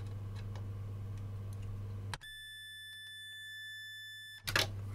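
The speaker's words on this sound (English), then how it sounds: "there we get a beep if we've got continuity across it" A multimeter on continuity test gives one steady, clear electronic beep lasting about two seconds while its probes touch a fuse in a Sony SLV-E700 VHS video recorder, framed by faint background hum and clicks.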